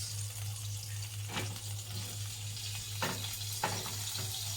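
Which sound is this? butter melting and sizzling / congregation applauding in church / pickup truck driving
butter melting and sizzling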